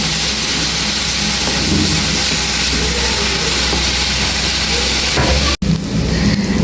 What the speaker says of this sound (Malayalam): നമ്മൾ ചതച്ച് വെച്ച പച്ചമുളക്, വെളുത്തുള്ളി, ചെറിയ ഉള്ളി അത് ഇട്ട് കൊടുക്കാം. ഇതിൻ്റെ ഒന്ന് പച്ചമണം മാറുന്ന വരെ ഒന്ന് വഴറ്റിയെടുക്കാം